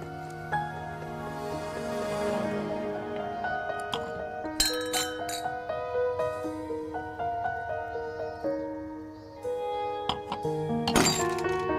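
Glasses clink together in a toast at a family gathering, a few bright, ringing taps standing out over soft background music.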